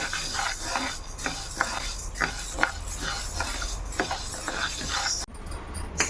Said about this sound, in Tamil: கொஞ்சம் ட்ரை ரோஸ்ட்டாக ஒரு 2 மினிட்ஸ் வந்து நல்லா வறுத்துக்கோங்க.